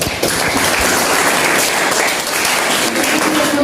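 Classroom applause from a group of students, loud, dense and close clapping sustained evenly for several seconds without talk.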